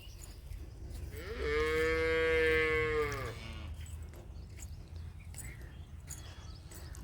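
A cow tethered outdoors gives a single loud, drawn-out moo lasting about two seconds, with faint background noise before and after.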